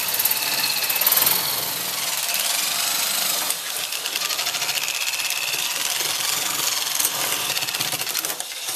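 A metal shear cuts a long line across sheet metal for a welded lone star, a loud, continuous mechanical chatter and grinding that runs unbroken and close by, with no speech.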